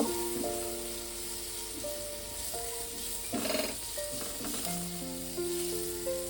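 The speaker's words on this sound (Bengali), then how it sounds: "দিয়ে এটাকে আমি মিনিট 2 একটু নেড়ে নেব।" Red bell pepper and capsicum stir-frying in a pan: a steady, close sizzle under a background musical drone, with a brief burst of scraping stirs near the middle.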